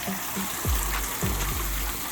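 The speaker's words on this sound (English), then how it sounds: "So there's your water flowing." Water pours steadily from an LED spillway waterfall fountain into a pond or pool, making a constant broadband splash and rush. Faint low thuds occur now and then beneath it.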